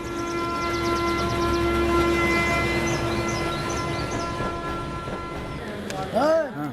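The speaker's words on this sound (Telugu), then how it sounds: "అందరు ఇండ్రి ట్రైన్ అర్ధ గంట వరకు ఇన్నే ఉంటది." A passenger train stands halted at a station in a comedy film scene, with a loud sustained rumbling hum and tonal horn-like drones, and brief voices near the end.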